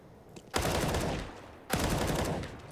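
Two long bursts of automatic rifle fire punch through a wall in a CS:GO match on Vertigo at an ESL Pro League game. The shots are loud and close, each burst lasting about a second, with a short gap between them.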